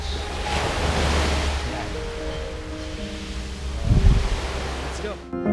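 Steady ocean surf from a nearby beach rushes continuously while wind blows under trees, with a brief word spoken over it.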